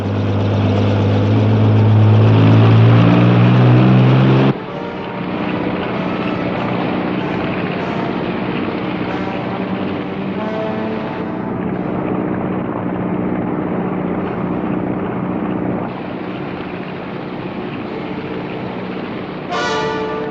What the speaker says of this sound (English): Tell the Coast Guard to start the helicopter in.